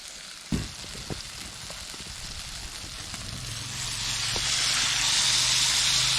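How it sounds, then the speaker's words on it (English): Cherry tomatoes frying in a pan over a campfire, with a steady sizzle and hiss that swells louder toward the end, plus a few sharp clinks and stirring knocks early on. "I just like to cook them until they look a little bit fried, start to get soft"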